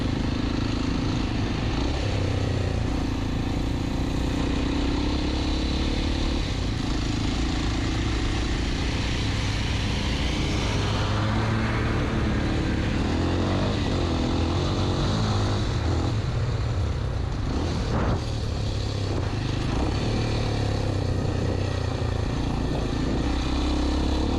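A Kawasaki KLX 230 dirt bike engine drones loud and close while trail riding, its pitch rising and falling with throttle changes and gear shifts over constant wind and riding noise.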